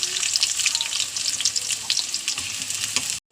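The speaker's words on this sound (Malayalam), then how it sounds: "എണ്ണ കാഞ്ഞ ഉള്ളി ഇടുന്നു." Onions frying in hot oil in a clay pot give off a bright, close, crackling sizzle that runs steadily and then cuts off abruptly at the end.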